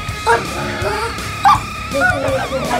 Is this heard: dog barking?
yes